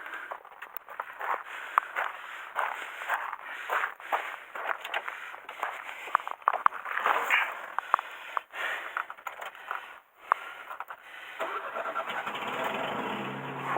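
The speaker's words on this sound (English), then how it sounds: "Started lovely, that." A Mercedes W115 with a recently worked-on carburetor cranks and fires after three years unused, then keeps running with a loud, rough, steady engine note close by and no voices.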